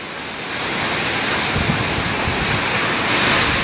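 Typhoon No. 9 brings strong wind to Quang Ngai, a dense, roaring rush that swells slightly and carries low buffeting thumps against the microphone, loud and continuous with no voices.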